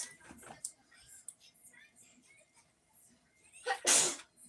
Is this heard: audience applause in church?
no